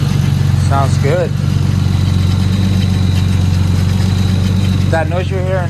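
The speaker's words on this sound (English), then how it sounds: "That noise you're hearing is the power steering. Doesn't have enough fluid." A Nissan Skyline R34 with a freshly rebuilt engine idles steadily and close by, a low constant drone with a faint whine from power steering that is low on fluid; people talk briefly over it at the start and end.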